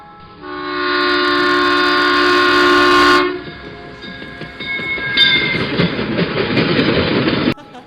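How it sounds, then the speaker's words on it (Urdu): A train passes along the railway tracks, opening with a loud, sustained horn blast and then giving way to rumbling, rattling wheels and carriages clattering by close at hand before cutting off abruptly. "train I"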